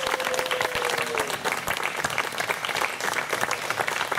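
Wedding guests at a ceremony in Rosemère applaud the couple with sustained, lively clapping from a close crowd, and a brief vocal tone rises over the start.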